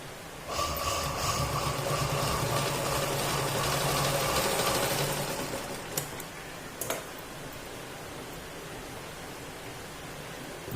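A sewing machine stitches along a folded-in fabric strip from a leftover blouse piece, a steady close whirring hum for about five seconds, then a few clicks and quieter handling noises with low room hiss.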